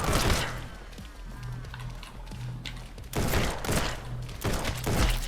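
Gunfire in the video game Acts of Blood, sharp bursts of rapid shots in a few clusters, loud and punchy, with a quieter stretch of mechanical noise between them.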